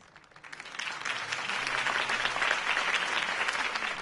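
A political campaign crowd in the Batman Telltale Series video game breaks into applause, building quickly into a dense, sustained clapping roar that continues steadily with no voices over it.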